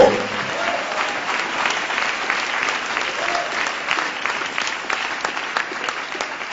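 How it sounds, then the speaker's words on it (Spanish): Steady applause from a church congregation, many hands clapping continuously at an even level with no voices standing out. "Ese aplauso de alabanza al Señor Jesús"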